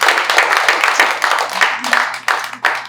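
A community audience at a local housing talk claps in a loud, close burst of applause that rises and dips in uneven waves over a few seconds.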